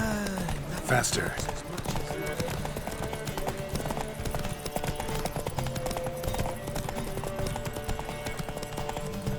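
Rapid hoofbeats of galloping horses in The Witcher 3: Wild Hunt pound steadily throughout a race, with a whinny early on and a voice shouting briefly over the clatter.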